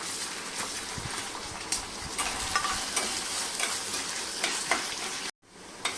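Finely chopped onion dropped onto whole spices in hot oil for dhaba-style mutton keema, a loud continuous sizzle with stirring scrapes and crackles throughout, ending with a brief cut to silence before resuming.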